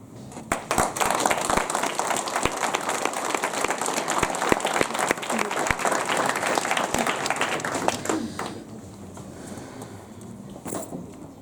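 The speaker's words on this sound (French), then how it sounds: "et à toute l'équipe de l'applaudir bien fort" An audience at a French municipal campaign list presentation applauds loudly and steadily for about eight seconds, then the clapping fades to scattered claps and room noise.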